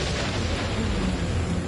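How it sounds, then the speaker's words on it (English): An explosion in the motorbike game Trials erupts as a loud, sustained roaring blast of broadband noise that fills the whole moment without a pause. "Bam! Explosion to the face"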